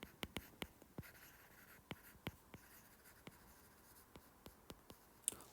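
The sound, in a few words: writing an equation on a board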